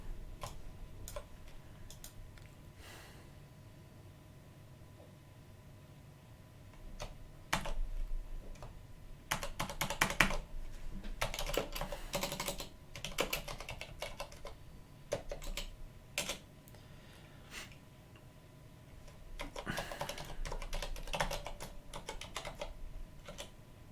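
Clicky typing on a computer keyboard during a Linux install, close but soft, with quiet stretches broken by several rapid bursts of keystrokes; no voices.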